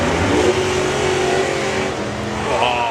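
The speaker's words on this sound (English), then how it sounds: "It's very rarely we get to see Bob on his own to hear what he does at the top end with the throttle." A drag racing car at the top end of its run, engine roaring loud under throttle with a rising and falling whine, heard at the Euro Finals Shootout drag racing event.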